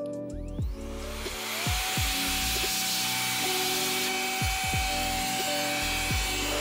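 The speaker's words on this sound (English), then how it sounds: "I do have this awesome dust blower that I picked up from Amazon. It's rechargeable and does a great job at keeping just about anything free of dust." A rechargeable electric dust blower runs steadily as a loud, continuous whine with a rushing airflow hiss, holding close and constant throughout while low knocks and shifts of handling sound beneath it.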